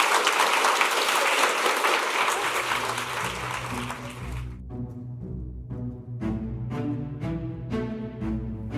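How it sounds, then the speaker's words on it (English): An audience applauds warmly for a panel of speakers, dense clapping that fills the room for several seconds before fading into music. "Please, a warm round of applause for our panelists"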